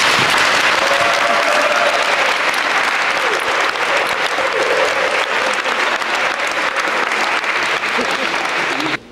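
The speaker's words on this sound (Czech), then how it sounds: "můžeme zatleskat" Sustained audience applause at a worship concert, dense, even clapping from a large crowd that holds steady for several seconds before stopping abruptly.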